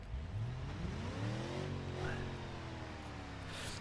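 A truck engine in BeamNG Drive drones and rises in pitch as it pulls along a narrow route, a steady revving tone that climbs and falls, fairly faint and close.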